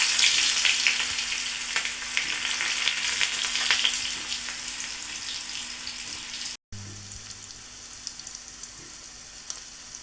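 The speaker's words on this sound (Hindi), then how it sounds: "गर्म हो गया तो मैंने प्याज, हींग और जीरा, बस अब इसको मैं और घी में डाल दूँगी।" Onion, asafoetida and cumin sizzle vigorously in hot desi ghee for a tadka, a loud continuous crackle that briefly cuts out, then resumes more quietly.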